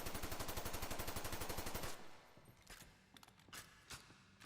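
A rapid, loud burst of automatic fire from the Saboro C30 in the game Ghost in the Shell: First Assault, about two seconds of evenly spaced shots followed by a few mechanical clicks and scattered softer shots.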